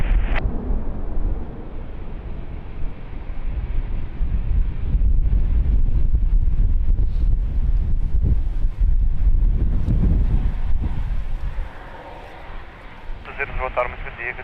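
Strong wind at Lisbon Airport roars and buffets across the microphone in loud gusts, mixed with a distant aircraft rumble, and radio voices speak through much of it.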